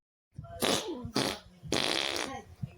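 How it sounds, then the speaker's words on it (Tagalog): Cartoon fart sound effect in a Filipino animation: several loud, raspy bursts in quick succession, the middle one shortest, with no talking over them. "Ah, sarap umutot dito kapag wala nakakakita"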